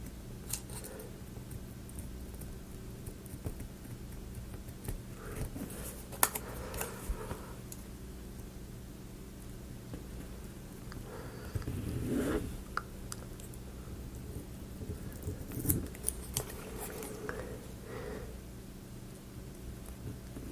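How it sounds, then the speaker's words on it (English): Quiet snipping of large scissors through paper for a Rolife Lazy Coffee House miniature kit, irregular cuts spaced out over a soft steady background hum, no talking. "I like the big scissors when I got good straight lines to go by."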